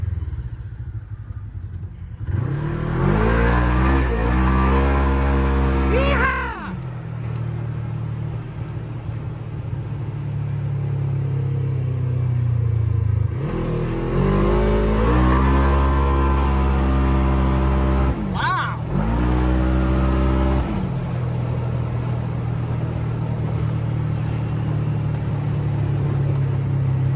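CFMOTO ZForce side-by-side fitted with a CVTech speed run clutch kit, its engine revving up hard in two long rising pulls with a drop between, loud and close, while people shout and whoop over it.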